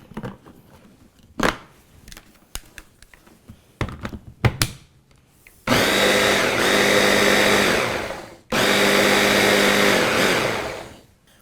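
An Aicok immersion hand blender starts after a series of handling clicks and knocks, then runs in two loud, steady whirring bursts with a short pause between them, close up and with no talking.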